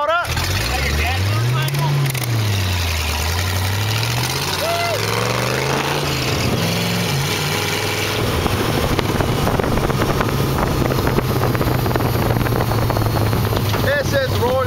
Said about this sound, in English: This is riding a Model A with Scott here.